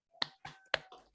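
Rhythmic spirit clap chant by children in an Indonesian classroom, four sharp, close claps in quick succession with a brief pause mid-sequence.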